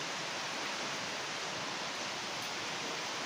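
Heavy rain pours down steadily near a house in Hyderabad, a dense, constant broadband hiss with no breaks and no voices.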